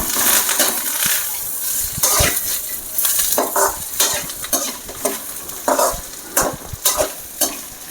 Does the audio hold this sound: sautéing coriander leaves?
yes